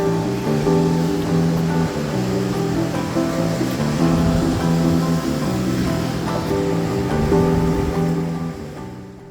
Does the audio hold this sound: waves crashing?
yes